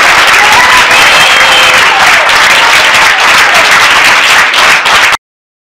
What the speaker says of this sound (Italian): Applauso dei tifosi del Varese per un Varese in vantaggio per 1-0